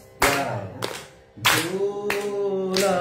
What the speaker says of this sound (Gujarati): પહેલો જે સમ આવે છે ત્યાં મોટી તાળી આપવાની